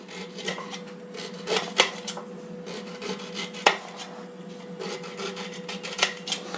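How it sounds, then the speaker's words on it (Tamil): A knife slices through peeled, washed ginger on a board for ginger candy, giving scraping, rasping strokes broken by occasional sharper taps as the blade meets the surface, close and clear with no talking. "இப்போ நம்ம அதை நல்லா ஸ்லைஸ் பண்ணிக்கலாம்."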